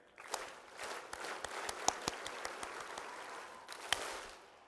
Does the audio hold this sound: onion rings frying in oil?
no